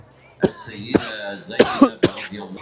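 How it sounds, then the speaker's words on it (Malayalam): Four separate coughs, close and fairly loud, sharp bursts spaced about half a second apart, from a person with a fever and cough, with a quiet background between them. "എനിക്കാണെങ്കിൽ നല്ല പനിയും ചുമയൊക്കെയാണ് ചുമ തരെ വിട്ടിട്ടില്ല"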